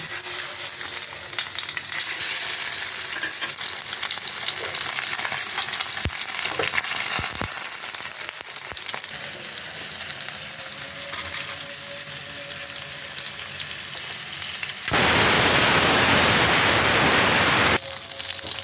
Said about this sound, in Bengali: তেলটা গরম হয়ে গেছে কড়াইতে, এখন আমি এই মাছটা ভালো করে ভেজে নেব।